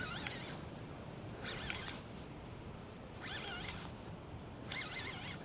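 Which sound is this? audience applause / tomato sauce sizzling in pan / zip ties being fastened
zip ties being fastened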